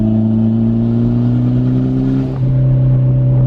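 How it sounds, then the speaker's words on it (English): A Toyota MR2 engine idles and revs with a loud, steady exhaust drone close by, dipping briefly before settling back into a constant rumble; no distinct backfire pops stand out. "good lord does this thing backfire"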